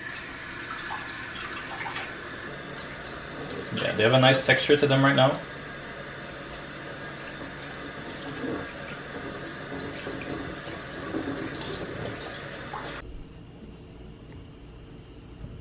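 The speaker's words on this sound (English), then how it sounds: "we're going to continuously cool down the water" Tap water runs into a sink as sweetbreads are cooled in cold water, a continuous rushing stream that surges louder briefly before settling, with a person talking over it.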